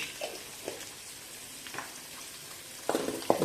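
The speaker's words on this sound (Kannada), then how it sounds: "ಟೊಮೆಟೊ ಎಲ್ಲ ಪೂರ್ತಿಯಾಗಿ ಮೆತ್ತಗಾಗೋ ತನಕ ಇದನ್ನು ಫ್ರೈ ಮಾಡ್ಕೋಬೇಕು" Tomato masala fries quietly in a pan as a soft, low sizzle, broken by a few scraping stirs that grow busier toward the end.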